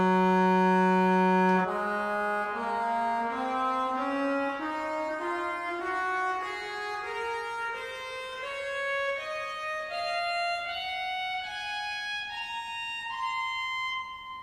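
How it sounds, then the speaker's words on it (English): Arp Schnitger pipe organ sounding trumpet and overtone stops together, a held low reedy note followed by a slow rising line of bright, nasal sustained tones, steady and clear in a resonant space. "So we hear the mix of trumpet and the overtone ridge together."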